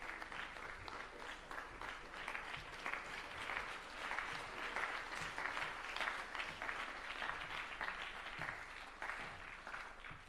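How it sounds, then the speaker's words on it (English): A standing audience at a World Philosophy Day symposium in Tanzania gives a welcoming round of applause, sustained clapping heard from a distance, fairly faint but steady throughout. "offer him a wonderful welcoming round of applause"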